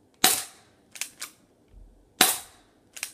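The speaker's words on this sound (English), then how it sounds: "Now I'm going to take my shots." A Crosman Stinger P311 airsoft pistol fires outdoors at a range, giving five sharp snapping shots spaced irregularly, some in a quick pair, loud and close with short decays between.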